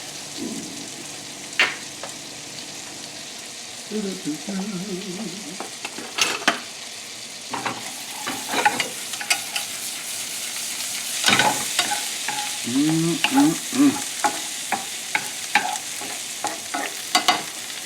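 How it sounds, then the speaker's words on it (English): Black garlic sizzles in butter that is browning in a pan, giving a steady crackling fry with occasional stirring scrapes and clinks. No voices are heard. "this is a good time to add the black, mysterious garlic"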